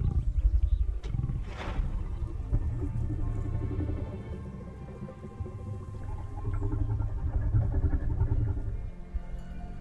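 A Jurassic dinosaur in the Path of Titans video game gives a lion-like call, a deep, rumbling roar that swells near the start and then trails into a long, growling tail, heard alone.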